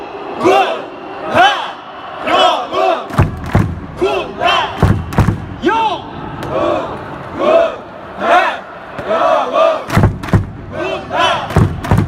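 Large baseball crowd at a Nexen Heroes game chanting a new team cheer in unison, bursts of shouted syllables with thumps between, loud and reverberant, a cheerleader's amplified voice mixed in.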